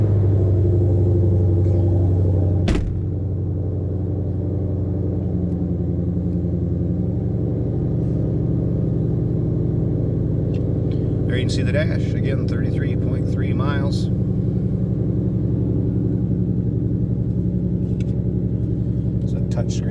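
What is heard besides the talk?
2022 Ford Mustang Shelby GT500 engine running at idle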